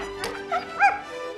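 Dogs bark and whimper close by in a period comedy film, a few short yips and whines rising and falling over a low steady hum.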